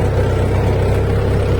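Tractor engine running steadily on a rough farm road during soybean spraying work, a continuous low rumbling drone with a throbbing pulse, close and fairly loud with no talk.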